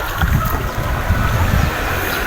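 A small, fast motorboat's engine approaches on open water during a shrimp-fishing outing, its low rumble steady and close, mixed with heavy wind buffeting.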